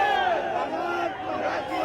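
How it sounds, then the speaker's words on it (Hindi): A crowd of marching students chants in unison, a distant roaring wall of voices rising and falling briefly. "भारत माता की जय, वंदे मातरम का नारा और छात्रों की भीड़ के बीच लहराता तिरंगा"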